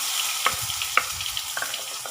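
Chopped tomatoes hit hot oil tempered with asafoetida and bay leaves for Gujarati dal dhokli, setting off a steady, close sizzle broken by a few sharp spatters and stirring clicks.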